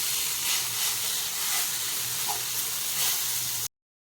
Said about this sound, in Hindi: एबे हम आ गोटे साइड को उल्टेकी फ्राई करदबा।